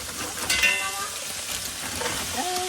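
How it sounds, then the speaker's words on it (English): Frozen broccoli hits hot oil in a stir-fry pan with a loud, steady sizzle and crackle that swells at the moment of adding and keeps hissing throughout, with no talking. "Add in my frozen broccoli carefully."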